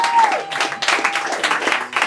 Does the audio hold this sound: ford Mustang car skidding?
no